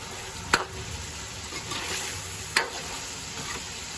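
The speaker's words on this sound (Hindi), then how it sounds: "3 अदद टमाटर, 5 से 6 हरी मिर्चें डाल देते हैं और इसकी बुनाई कर लेते हैं" Tomatoes and green chilies frying for matar keema, a soft steady sizzle with two sharp clinks of a spoon against the pan.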